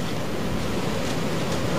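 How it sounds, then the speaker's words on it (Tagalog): Strong surf pounding the shore at Baler, Aurora, during a storm with strong wind, giving a loud, continuous low roar with wind buffeting the microphone, near and unbroken throughout. "Dinig na dinig ang dagundong ng malakas na alon ilang metro lang mula sa dalampasigan ng Baler, Aurora."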